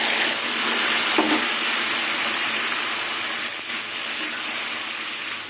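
Boiled khesari lentils and tender taro stolons hit a pan of frying garlic, producing a loud, continuous hissing sizzle with faint stirring scrapes and no voices.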